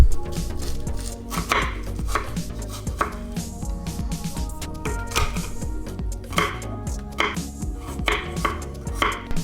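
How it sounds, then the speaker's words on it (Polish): Potatoes, onion, ginger and garlic are cut with a knife on a board, a quick rhythmic run of close, loud chopping strokes that pauses briefly now and then, with no speech. "przygotowanie rozpocznę od pokrojenia warzyw, czyli ziemniaków, cebuli, imbiru i czosnku"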